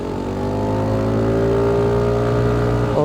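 A Kymco G7 scooter accelerates up a gentle mountain-road slope, its engine note loud and close, rising steadily in pitch as the throttle opens, with a brief surge at the end.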